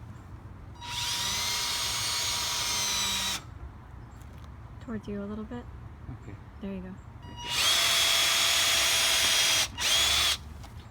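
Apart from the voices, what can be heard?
power drill drilling hole in wood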